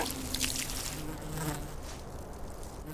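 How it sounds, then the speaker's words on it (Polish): Bees buzz in a steady, close hum with a faint trickling wash underneath, continuous throughout the short stretch. "i zapylanych przez szczęśliwe pszczoły"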